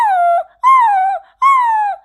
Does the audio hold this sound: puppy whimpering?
yes